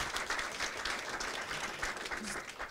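Swedish school-software release event audience applauding, a soft, fairly distant patter of many hands clapping steadily throughout, with a faint voice mixed in near the end.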